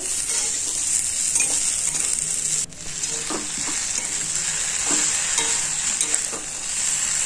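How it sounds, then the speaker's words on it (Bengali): A cauliflower and potato dalna curry fries in a pan with a loud, steady, close sizzle. The sizzle breaks off briefly once, and faint stirring clicks sound under it. "এবার ফুলকপি আলুর ডালনা রান্না করব।"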